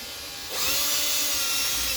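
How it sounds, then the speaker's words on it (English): Power drill boring out the top wishbone hinge pin on a Traxxas XRT, starting abruptly after a brief quiet and then running as a steady, loud, close whine. "we just need to drill out this top wishbone"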